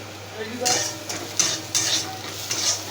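Onions frying in a pan for aloo paratha filling are stirred with a utensil, giving several sharp scraping clinks over a soft sizzle, with a little quiet talk.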